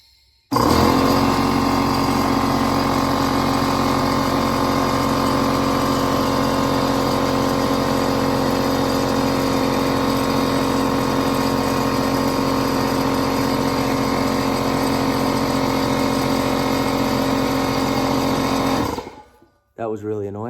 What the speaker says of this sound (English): That was really annoying, so I just shut the air compressor off.